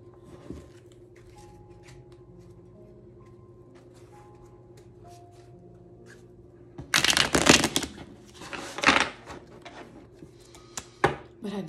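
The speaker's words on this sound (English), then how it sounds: "But I definitely do love the way that they shuffle." Tarot cards being shuffled close up, a burst of quick riffling and flicking after a quiet stretch, then a few shorter shuffles, while someone talks quietly.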